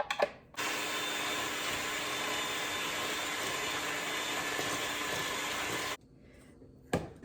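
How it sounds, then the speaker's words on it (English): A hand mixer creams butter and sugar in a bowl, a steady whirring motor hum running for about five seconds, with clunks of the beaters against the bowl before and after. "With my hand mixer, I'm going to cream my butter and sugar together."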